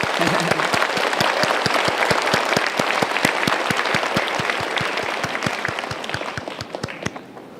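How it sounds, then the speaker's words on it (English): An audience applauds a distinguished presentation at an event, with dense clapping that carries sharp individual claps near the mic and slowly thins out toward the end. "Let's applause again."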